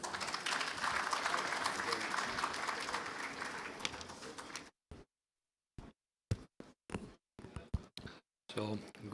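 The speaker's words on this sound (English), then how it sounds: "Applause, please." Applause from an audience at a business summit in Islamabad, a steady dense clapping that lasts about five seconds, then breaks off into scattered short bursts of sound with silent gaps.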